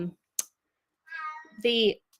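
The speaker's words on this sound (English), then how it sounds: "don't know if you can hear my cat. He's mad. He wants to go outside." A cat meows indoors, wanting to go outside: a brief click, then two drawn-out, insistent meows close to the microphone, the second louder and more strained.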